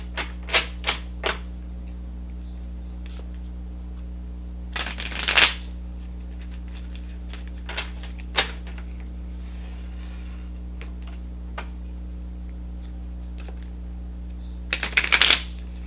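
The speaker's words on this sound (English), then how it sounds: "Shuffle 1 or 2 more times while I center myself." Tarot cards being shuffled in a few short bursts, riffles and light taps separated by long quiet gaps over a steady low hum.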